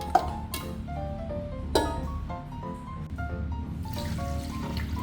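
Water trickles and pours steadily into a pressure cooker holding beef caldereta in a home kitchen, close and fairly quiet, with a couple of faint clinks of metal along the way.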